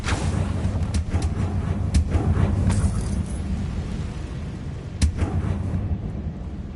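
Spell blasts from the Bombarda and Confringo charms in Hogwarts Legacy go off as a series of sharp explosive thumps and crackles, with a louder burst near the start and another impact later, over rumbling game ambience.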